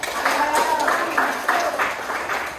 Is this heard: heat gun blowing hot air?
no